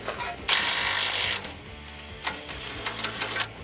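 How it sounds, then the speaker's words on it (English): A ratchet works on a 19 millimeter bolt at a Toyota Tacoma steering knuckle: a loud burst of rapid clicking, then a pause and a few shorter ratcheting bursts. "break it free, and then we'll also break free this second 19 millimeter bolt."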